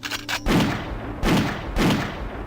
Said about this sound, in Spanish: se escucharon varios tiros